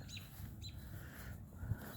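Out in a backyard, a bird gives a few short, sharp calls spaced across a couple of seconds, fairly faint and set against soft outdoor background noise.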